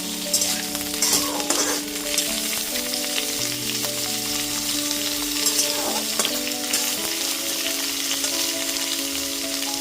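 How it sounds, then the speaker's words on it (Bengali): Drumstick pieces and freshly added chopped tomatoes fry in hot oil with a loud, dense, crackling sizzle, accompanied by a sustained tonal hum and occasional stirring clatter, close and with no talking. "তারপরে এতে ছোট টুকরো করে কেটে রাখা টমেটো টুকরোগুলো দিয়ে দিচ্ছি"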